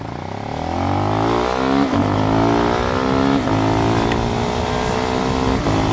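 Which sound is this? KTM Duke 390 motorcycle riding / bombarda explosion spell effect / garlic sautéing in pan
KTM Duke 390 motorcycle riding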